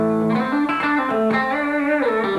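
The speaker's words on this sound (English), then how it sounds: "Which sounds much different than the bridge pickup on its own." Electric guitar through its bridge pickup alone: a steady run of sustained, harmonically rich notes changing pitch every half second or so, close and loud with no talk.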